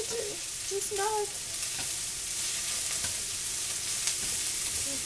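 Cremini mushrooms fry in hot oil in a pan, a steady close sizzle and hiss with a few faint clinks and scrapes of stirring early on, and no one speaking.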